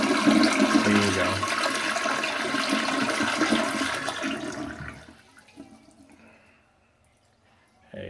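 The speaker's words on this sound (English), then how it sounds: "you got to flush the toilet and hold it down to empty it out" A bathroom toilet flush, held down to drain the tank, rushes and gurgles loudly for about five seconds, then tapers into faint trickling and near silence.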